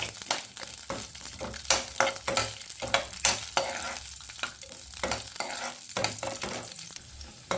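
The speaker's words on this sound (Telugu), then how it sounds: "మనం జీడిపప్పును ఫ్రై చేసుకుందాం. అలాగే కిస్మిస్ కూడా వేసుకుందాము." Cashews and raisins frying in a pan for semiya kesari, a steady close sizzle broken by repeated sharp scraping strokes of a spoon stirring the nuts, with no talk.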